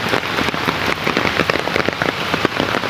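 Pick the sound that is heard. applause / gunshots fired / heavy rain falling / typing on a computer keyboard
heavy rain falling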